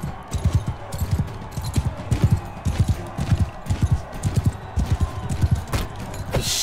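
Rhythmic hoofbeats of a galloping horse in the video game Mount & Blade II: Bannerlord, steady and fairly close, with a few sharper impacts near the end.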